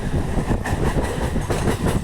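A fast Burdwan–Howrah local train running at speed, loud continuous rumble with rhythmic clickety-clack of wheels over rail joints, heard close from on board.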